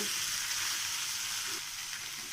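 Paneer pieces fry in a pan with a soft, steady, even sizzle, fairly quiet and close, with faint occasional shifts as they settle.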